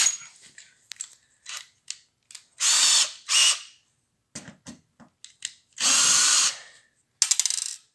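Power drill driving screws in short bursts: quick whirring spins interleaved with a few longer, louder runs, close and with quiet gaps between.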